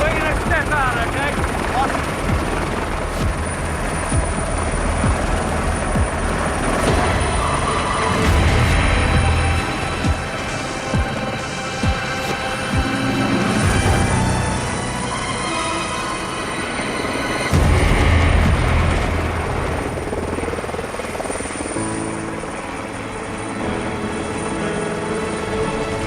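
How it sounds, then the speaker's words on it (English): Helicopter hovering and flying beside a mountainside, a loud continuous rotor and engine roar filling the whole stretch with steady wind buffeting, swelling and easing a little at times. "hanging on the outside of a helicopter while it's flying off the side of a mountain is an incredible experience"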